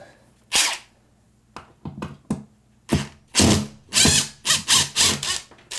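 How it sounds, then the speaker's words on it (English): A power drill backs drywall screws out of a hot water baseboard heat enclosure in short, separate bursts of whirring, the bursts growing longer and closer together toward the end, loud and close with no talking. "Well, it looks like there's just 2 drywall screws. Another one right here. So we'll take those out."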